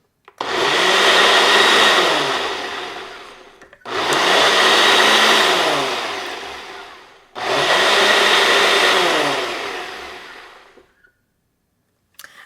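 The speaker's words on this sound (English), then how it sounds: "Just use whatever high speed function you have on your blender" A blender roars at high speed in three long bursts with short pauses between, loud and whirring, then falls silent.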